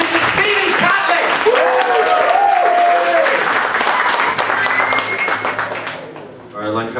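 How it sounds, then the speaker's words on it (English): A comedy club audience in Lancaster applauds steadily to welcome a comedian onto the stage, a dense, close burst of clapping that carries through most of the moment before tapering off near the end, with a voice speaking over it. "Okay, so start clapping. Everyone else join in."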